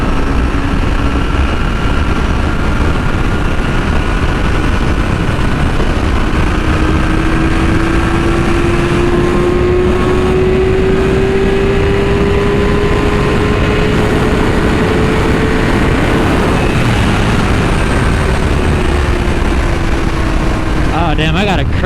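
Yamaha R6 sport motorcycle engine pulling hard in sixth gear at high speed, a steady rising drone with heavy wind rush throughout, close and loud.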